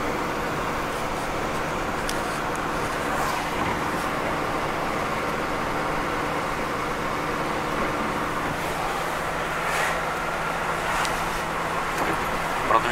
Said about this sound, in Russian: Выехали из города, едем потихоньку.